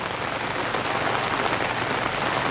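Heavy rain pours steadily onto surfaces outdoors in Vietnam, a dense, loud, unbroken hiss that covers the whole stretch with no voices.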